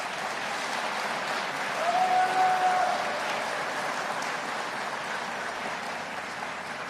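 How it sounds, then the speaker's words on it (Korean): Steady applause from an audience at the Busan grand transformation vision ceremony for Mayor Oh Keo-don, held in a disused factory; a dense, even wash of clapping that swells briefly midway and continues throughout. "오거돈 시장님께 큰 박수 한번 부탁드립니다"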